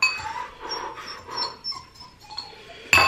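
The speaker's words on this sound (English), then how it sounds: "Even the dog is crying." A dog whimpers and whines in a few short, breathy cries, fairly close, ending in a brief sharp sound.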